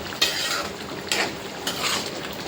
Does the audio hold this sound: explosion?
no